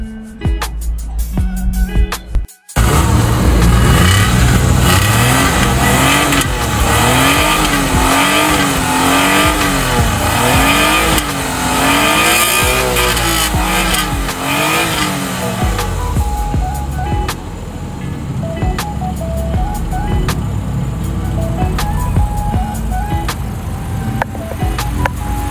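A car engine revving hard through its exhaust, a loud close roar that climbs and falls in repeated waves, then settles into a steady rumbling idle with occasional blips.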